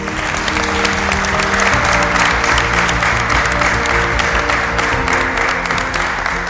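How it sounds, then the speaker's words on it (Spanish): Big applause from an audience at a school event held at Escuela Secundaria número 3, a loud, sustained roar of clapping with a steady musical tone running beneath it throughout. "te despedimos con este gran aplauso"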